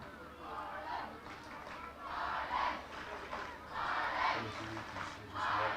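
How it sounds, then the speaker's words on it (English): Crowd on the far side of a women's rugby match between England and Ireland swelling into distant rolling cheers and chanting in waves, faint and diffuse across the ground. "Crowd on the far side getting into it"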